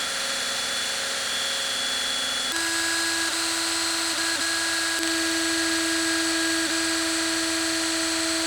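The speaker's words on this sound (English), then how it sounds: "you're just going to go ahead and start up your drill." A power drill spins thin-gauge wire to twist a fused Clapton vape coil, a steady close whine that steps up in pitch partway through and then runs on with small wavers.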